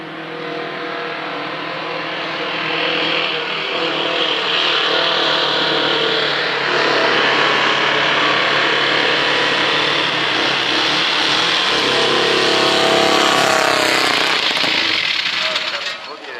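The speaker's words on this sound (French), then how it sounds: "On passe tout de suite à Yves Dubrana et la BMW M3." BMW M3 race car, number 176, on a hill climb run at Chamrousse, its engine roaring steadily and growing louder as it accelerates, with a commentator talking over it.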